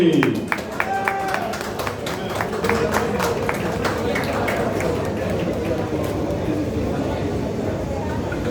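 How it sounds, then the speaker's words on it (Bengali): Applause from the audience at a national film awards ceremony, dense steady clapping filling the hall throughout, with voices and cheers mixed in underneath. "হাততালি।"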